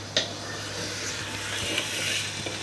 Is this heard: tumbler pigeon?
no